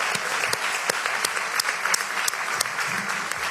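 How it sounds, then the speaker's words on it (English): Dense applause from an audience at a poetry foundation event in Newark, sustained and lively throughout with sharp individual claps standing out, heard close in a hall. "Let's give them a round of applause for that."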